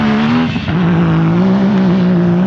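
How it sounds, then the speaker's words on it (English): Yamaha YXZ side-by-sides drag racing on the St. Anthony sand dunes, with a loud, steady engine roar at high revs that dips briefly and then holds on, very close and with no voices. "You can't come to St. Anthony Sand Dunes with YXZ without a little bit of friendly competition, a little bit of drag racing."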